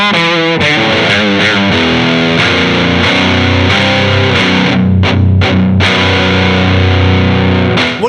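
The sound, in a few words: electric guitar through DOD Boneshaker distortion pedal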